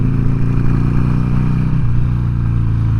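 A Harley-Davidson Sportster 883 rumbles loudly on the move, its V-twin engine giving a steady, throbbing drone with a slight shift in pitch near the end.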